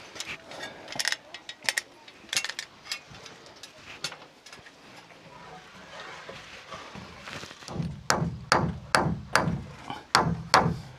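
Nails are hammered to fasten a wooden roof truss for a homestead patio addition, with scattered knocks early on, then a run of regular, solid blows picking up pace near the end, moderately close, with birds cooing faintly in the background.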